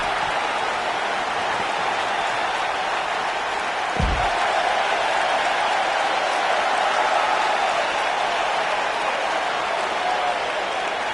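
Wrestling arena crowd at Survivor Series roaring passionately, a dense sustained wash of cheering and applause throughout, with a brief low thump around the middle.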